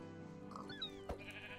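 A Minecraft sheep bleats over a steady background of game music, with a couple of brief, short bleat-like sounds standing out in the middle of the clip.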